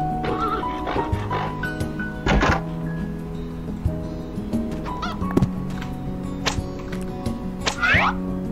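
A farm horse in the Harvest Moon game gives a brief whinnying neigh near the end, following scattered thumps and animal noises as livestock are let out in the morning.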